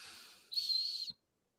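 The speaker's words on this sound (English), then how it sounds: "I'm hearing a nose whistle." A thin, high-pitched whistle sounds once for about half a second, steady in tone, then cuts off into silence.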